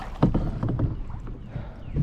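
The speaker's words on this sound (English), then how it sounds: "we're just kayaking along here" Kayak paddling along on water on a cloudy evening: soft, irregular splashes and dips of the paddle, close and fairly quiet, with light wind noise on the microphone.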